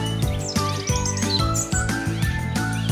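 Bright, repeated robin-like chirps and tweets in quick succession over a light musical backing, a cheerful bird call sounding close and clear throughout.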